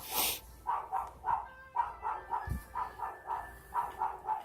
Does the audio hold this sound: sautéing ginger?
no